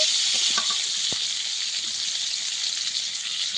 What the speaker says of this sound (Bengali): ভালো করে আমটাকে তেলের মধ্যে একটু ভেজে নেব